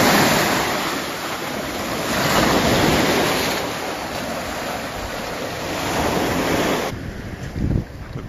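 Sea waves roll and break continuously along an Italian coast while strong wind buffets the microphone, a loud, steady wash of surf that swells and eases with gusts.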